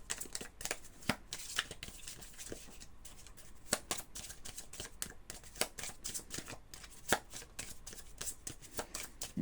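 Oracle cards for a tarot reading being shuffled by hand in a quiet room, a soft, steady papery riffling with regular sharper slaps of the deck, close and faint, with no voice.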